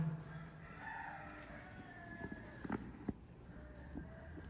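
A rooster crows faintly in the distance at a family thanksgiving gathering in North Toraja, its call rising under a quiet background with scattered small knocks and sounds.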